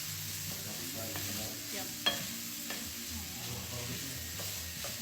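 Chopped dill pickles stirred into onion sizzling in a pan, a steady frying hiss with soft scraping stirs and a single clack, while someone briefly speaks.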